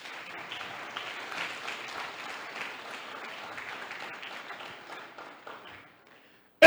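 A church congregation claps steadily for several seconds, a moderately loud wash of many hands that fades out near the end.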